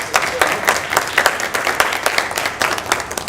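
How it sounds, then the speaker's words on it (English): Audience at a Board of Health meeting gives a speaker a short round of applause, a moderately sized group clapping unevenly and close by for a few seconds. "We can give her a round of applause."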